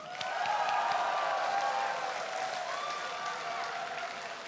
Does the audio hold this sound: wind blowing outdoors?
no